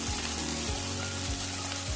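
Sago pearls and paneer fry in a hot pan for sabudana khichdi, giving a steady close sizzle with soft stirring scrapes about every half second.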